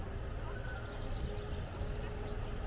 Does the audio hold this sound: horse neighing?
yes